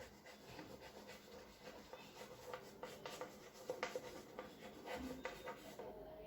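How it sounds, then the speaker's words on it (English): Soft scratching of a pen writing names by hand, close and faint, with steady irregular strokes and small taps continuing for several seconds without talking. "First time, I'll write some different persons' names."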